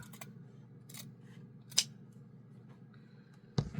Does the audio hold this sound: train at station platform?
no